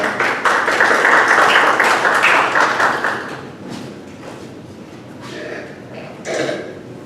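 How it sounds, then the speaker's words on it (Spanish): An audience at a training course lecture applauds to welcome a speaker, with dense clapping loudest at first, then thinning to scattered claps before a final short flurry. "Un fuerte aplauso, por favor"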